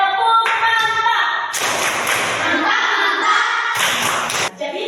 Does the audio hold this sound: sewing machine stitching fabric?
no